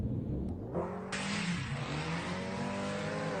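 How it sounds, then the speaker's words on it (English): Street drag race between a nitrous-fed car and a turbocharged car, engines revving hard and roaring past continuously at close range with a broad, loud exhaust drone throughout. "Nitrous car over a turbo car right there, ladies and gentlemen."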